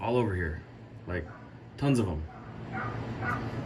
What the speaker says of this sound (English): I don't know if you guys can hear in the background, but that dog is just nonstop